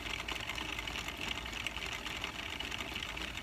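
A Singer or Royal cone winder driven by a spinning wheel whirs with a steady, fairly quiet mechanical hum and fine rapid rattle, continuous throughout with no talking.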